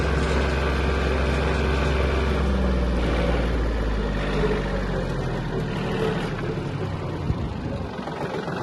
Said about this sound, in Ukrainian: Трактор миттєво розганяється.